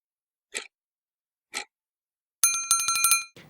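A notification bell effect plays: two short isolated dings about a second apart, then a rapid bright ringing trill of several quick strikes that ends abruptly, all crisp and loud over silence.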